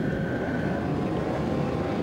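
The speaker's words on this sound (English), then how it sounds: "Superbike race 2, revs rise, and we're away" Superbikes roaring together off the grid at the start of race 2 in the Australian Superbike Championship in Darwin, a dense, steady, loud engine drone with no clear individual revs.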